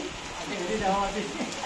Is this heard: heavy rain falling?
yes